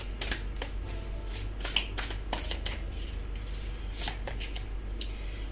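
Tarot cards are shuffled and laid out, with soft riffling and several sharp slaps and snaps of cards set down, close up over a low steady hum.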